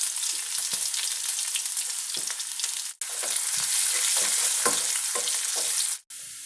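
Chopped red shallots sizzle in hot oil in a pan for a Kerala-style curry, a loud, continuous frying hiss broken by stirring scrapes and two short pauses.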